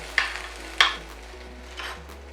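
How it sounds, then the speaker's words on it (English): Garlic and aromatics sizzle faintly in a hot pan as they are pushed aside for spicy chili shrimp, with two short scraping strokes near the start and soft frying hiss after. "Now I'm going to push all the aromatics out to the side."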